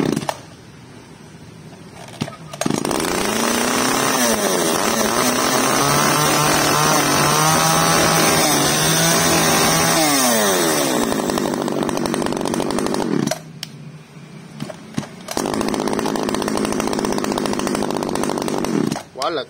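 Small petrol chainsaw with an original Echo chain, revved hard and dropped back to idle, its loud high whine rising and falling before a short pause and another rev; someone talks over it.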